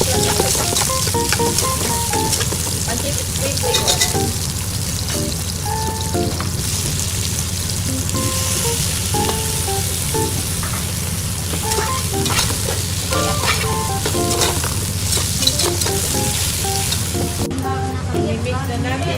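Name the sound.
stir-frying pancit gisado with shrimp and Datu Puti sauce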